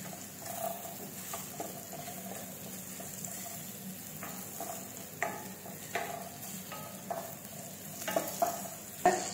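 A spoon stirs and mashes sour sorrel greens (puli keerai) with a sizzling tempering in a pot, giving soft scraping strokes and intermittent clicks over a steady low sizzle, close and moderately quiet, with no talk.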